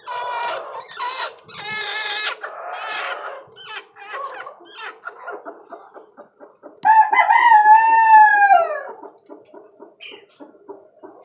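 A farm rooster kept with hens crows once, loud and close, with a long harmonic call near the middle, while chickens cluck and squawk in short bursts all around it.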